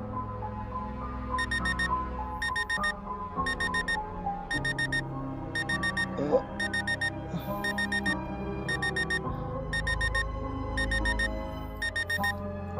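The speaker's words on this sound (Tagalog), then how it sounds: "Ang ingay ng alarm." Alarm clock ringing in a home, a loud repeating electronic beeping in regular bursts of about half a second, more than a dozen in a row over a bed of background music.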